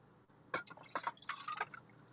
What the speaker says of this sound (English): So for Veronica and I tonight for Wednesday, we have a 2-ounce pour